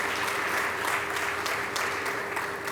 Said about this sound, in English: I think they deserve a round of applause wherever they are now